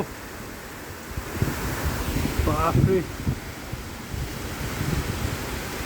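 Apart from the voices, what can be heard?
heavy rain and strong wind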